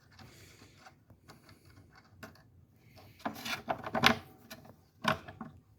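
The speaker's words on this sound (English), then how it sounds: "this wing nut that goes on here, I can just tighten and loosen it." Metal wing nut being worked loose on the hardware of a gold sparkle Ludwig bass drum during restoration, giving quiet ratcheting and clicking mechanical sounds with louder scraping bursts near the end, close up and without talk.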